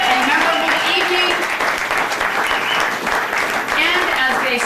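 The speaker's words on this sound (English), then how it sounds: "A big round of applause for our gracious host, Nick's Restaurant, and the staff" Audience applause at a chamber of commerce awards ceremony dinner held in a restaurant, a dense, sustained clapping from a large crowd that fills the whole stretch at steady loudness.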